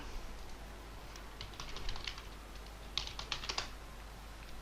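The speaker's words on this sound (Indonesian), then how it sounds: "di sini coba ketikkan google.com" Computer keyboard typing in two short bursts of quick, light keystrokes, close but fairly quiet over a steady low hum, with a brief pause between the bursts.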